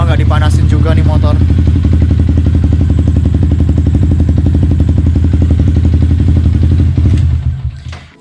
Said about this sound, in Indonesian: Dan udah lama nggak dipanasin juga nih motor